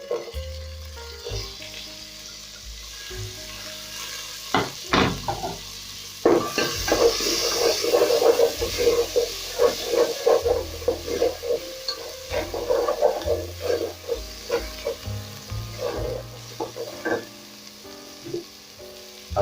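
Vegetables sizzle and fry in a single pot with tomato paste and garlic while rice and beans are being made, a steady close crackle broken by stirring scrapes and occasional clinks of a utensil against the pot.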